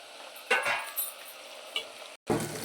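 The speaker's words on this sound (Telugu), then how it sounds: "ఇలా పచ్చివాసన పోయేంత వరకు అల్లం వెల్లుల్లి పేస్ట్ వేయించుకొని" Ginger garlic paste frying in a pan for a country chicken curry, giving a steady soft sizzle with a few louder stirring scrapes and a brief break before the frying resumes.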